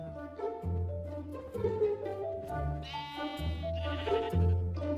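Minecraft sheep bleat repeatedly under a wolf attack, several wavering game-style bleats overlapping in quick succession, loud and continuous.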